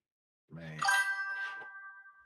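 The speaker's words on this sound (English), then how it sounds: "What's that ringing noise? Like when a message come in and go bling." A message notification on a podcast setup rings out alone, a single bright chime with a ringing tone that holds and slowly fades, preceded by a short, lower sound.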